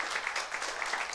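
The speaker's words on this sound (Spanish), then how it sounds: "Démosle un fuerte aplauso al Señor" Church congregation clapping together in a sustained burst of applause, steady and fairly loud throughout with no pauses.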